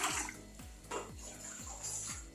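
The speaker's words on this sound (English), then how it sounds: "So this is my water inside the kettle, so I'm going to pour it." Hot water pours from a kettle in a steady close splash, with gurgling pulses recurring about every half second and no voices.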